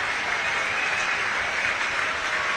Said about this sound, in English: Stand and clap,